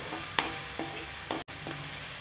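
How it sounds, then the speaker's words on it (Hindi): Finely chopped onion fries in a pan for masala Maggi noodles, giving a steady close hiss of sizzling oil broken by a few sharp stirring scrapes and clicks, with no voices. "प्याज नूं असीं 15-20 सैकिंड भुन लवांगे।"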